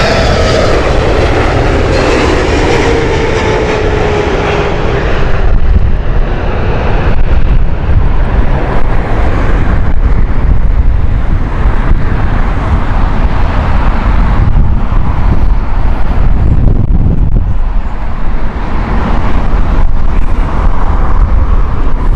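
A LATAM airliner from Sao Paulo at Heathrow Airport passes close and loud, with a whining engine tone sliding downward early on before a broad, rumbling jet roar with wind buffeting takes over and holds steady.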